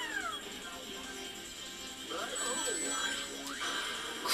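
A cartoon cat meows in the Sonic Heroes video game amid gameplay effects: several rising and falling meows in quick succession, moderately loud, with a voice partly overlapping.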